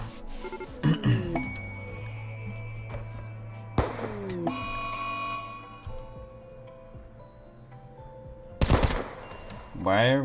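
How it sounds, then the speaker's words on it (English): Gunfire in the colony-building game Rimworld, with several short bursts of shots and clinks. The shots come as separate clusters among steady game background sound, and one loud burst falls near the end. "Why are we shooting?"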